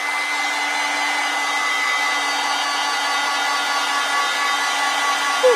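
A hair dryer blows steadily at close range over a watercolor orchid painting, giving a loud, constant whooshing hum with an electric whine that runs unbroken throughout.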